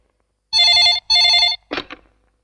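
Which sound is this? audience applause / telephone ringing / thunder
telephone ringing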